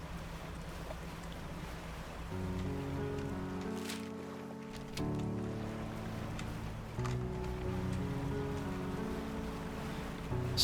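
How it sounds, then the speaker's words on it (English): A fishing boat cruises across open water in the Dredge video game, a steady low engine drone with faint wind and wash of waves, quiet and continuous with no talking. "Still am not used to how fast my boat is."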